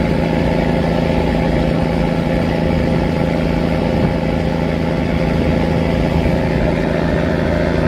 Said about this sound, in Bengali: চলুন আমাদের লঞ্চের ইঞ্জিন থ্রাস্টটা দেখাই কীরকম। এক ইঞ্জিন লঞ্চের ইঞ্জিন থ্রাস্ট।